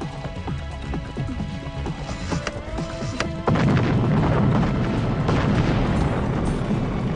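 Dynamite blasts demolish buildings in an Old West town. After a music-like passage, a loud, rumbling explosion bursts in suddenly and roars on without a break.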